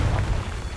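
A Confringo fire spell exploding in Hogwarts Legacy, heard as a brief, loud, deep booming burst that rumbles steadily and fades slightly.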